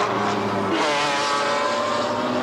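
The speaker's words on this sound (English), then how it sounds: "There's the Gicardi car, up in the thick of this battle." A Gicardi Racing GT race car screams past at Jarama in a 1995 BPR Global GT Series race, a loud, close engine howl with a sweeping pitch as it passes, and no talking.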